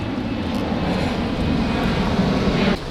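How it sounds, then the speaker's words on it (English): An airplane passes overhead near a mountain airport, a loud, steady, broad roar that holds for about three seconds before dropping slightly at the end. "the plane"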